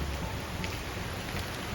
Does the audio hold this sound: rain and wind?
yes